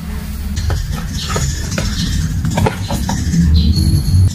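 Scattered bird chirps and scratchy rustling close by, irregular and fairly loud, with a brief higher whistle near the end.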